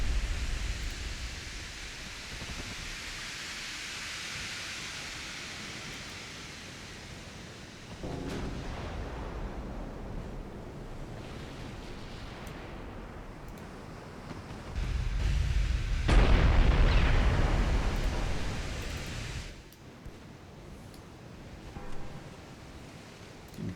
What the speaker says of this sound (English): Oh, yeah, that's a nasty hit.